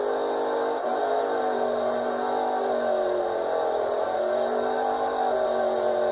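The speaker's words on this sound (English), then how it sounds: "as you can see, I'm just doing like a really, really good burnout" A car doing a burnout holds its engine at a loud, steady high rev, a continuous droning roar with slight pitch sways throughout, heard close and with no talking.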